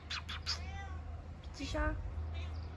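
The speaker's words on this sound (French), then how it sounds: "Oh bah là les petits chats." A small cat in a French village meows several times in quick, close calls, while people talk quietly nearby.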